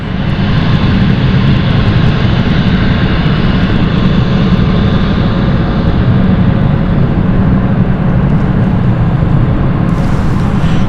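City Flyer passenger aircraft at London City Airport, with a loud, steady engine roar that holds throughout and eases slightly near the end.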